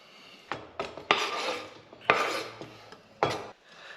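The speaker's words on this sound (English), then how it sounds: "the last thing I'm gonna cut and prepare is this corn" A knife slicing kernels off a fresh ear of corn, heard as a handful of sharp, close cutting strokes with scraping rasps in between and no talking.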